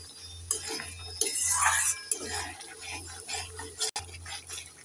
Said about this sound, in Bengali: এবার নেড়ে চেড়ে মশলাটাকে আমি 3 মিনিট ভালো করে কষে নেব।